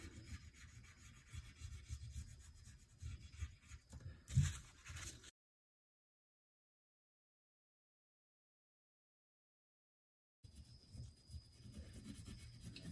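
Oil pastel strokes rub over paper in soft, faint, close scratchy bursts, broken by a long stretch of silence before the coloring resumes. No speech is heard.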